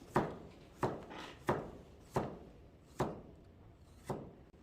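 A knife slices cucumber diagonally on a cutting board, six or seven evenly spaced crisp chops, close but soft, with no talking.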